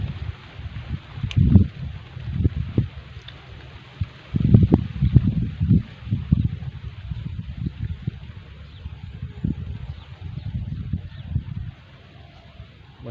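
Strong wind buffets the microphone in gusty, booming bursts at an outdoor fishing spot as rain approaches, loud and uneven over a faint steady background with no talking.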